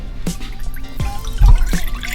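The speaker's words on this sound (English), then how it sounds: "I have my little small pot here, and I just pour in." Almond milk poured into a small pot, with a few separate dribbling splashes and drips spread across a couple of seconds, close and moderately loud, with no talking.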